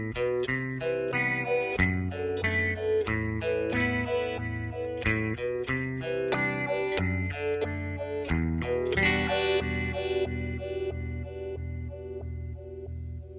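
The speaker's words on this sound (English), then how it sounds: "you flip it down to the square wave, keep pretty much everything the same, and it's going to make the shift really harder and give it kind of a cool step sequencer sound" Guitar played through an Electro-Harmonix Stereo Polyphase analog phaser with its LFO set to square wave, producing abrupt stepped phase shifts like a step sequencer; a continuous strummed and picked riff, fairly loud and steady, with no talking.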